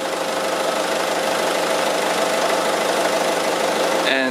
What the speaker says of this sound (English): I've started the engine.